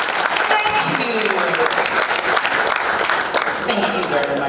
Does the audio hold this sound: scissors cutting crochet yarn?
no